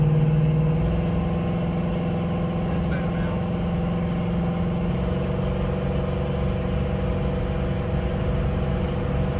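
A 1970 Dodge Challenger R/T convertible engine runs steadily while driving, a close, loud, continuous mid-pitched drone with a slight rev early on, and a person talks briefly over it.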